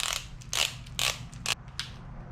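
A torque wrench is adjusted down to about 65 inch-pounds during work on a 1977 Datsun 620, giving a handful of short, close mechanical ratcheting clicks spaced about half a second apart.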